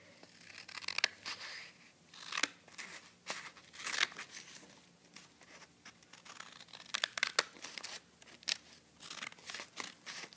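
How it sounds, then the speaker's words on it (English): Scissors cutting paper to make a paper pouch, a series of crisp, close snips and crinkles in an uneven rhythm, fairly quiet and with no talking. "So I'm just going to be cutting it now."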